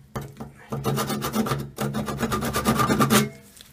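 A tool scratches alignment marks into a metal alternator casing, a close, harsh rasping in quick repeated strokes that pauses briefly and then continues, with no talk.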